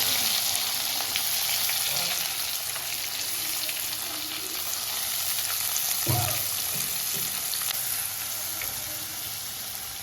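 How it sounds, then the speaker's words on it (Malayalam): Curry leaves and sliced onion crackle and sizzle in hot oil after mustard seeds have popped, a steady, fairly loud frying hiss with a few sharp pops and spatters, no voices. "കടുക് പൊട്ടി ഇനി നമുക്കതിൽ കരിയാപ്പിലയും കൂടെ ഇട്ട് കൊടുക്കാം"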